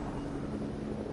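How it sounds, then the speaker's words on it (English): Helicopter in the video game Fortnite, a steady low rotor drone held at an even level throughout, with no distinct blade chop and no talk. "I hear a chopper."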